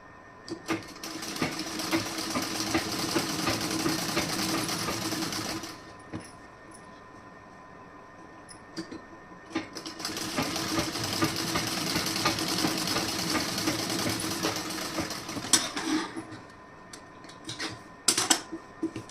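A sewing machine stitching a plain sari blouse runs in two sustained bursts of rapid, even stitching, separated by a quieter pause with light handling noises, all close and with no talking.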